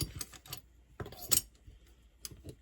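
Parts of a rusty lopper being reassembled, with a washer going on before the piece clicks into place; several sharp metallic clicks and clacks sound close by, sparse and irregular, with no talk.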